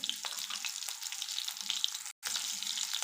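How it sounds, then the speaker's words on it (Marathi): Finely chopped green chillies crackle and spit in hot oil, a bright continuous sizzle close up with scattered pops, cut by a brief moment of silence near the end. "तेल थोडं गरम झालेलं आहे आता मी दोन बारीक चिरून घेतले हिरव्या मिरच्या मी तेलामध्ये घातलेल्या आहेत"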